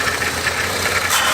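An abandoned Cadillac limousine engine idles close by, with a loud, steady, even rumble and a low pulsing throb.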